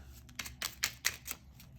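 Tarot cards shuffled by hand in a run of short riffling bursts, close and fairly quiet, with brief gaps between them.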